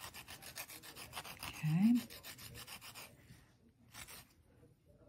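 Coarse Abranet sanding mesh rasps against polymer clay in quick, rhythmic back-and-forth strokes, close and dry. A short pause comes before a few final strokes, and a brief spoken word is heard.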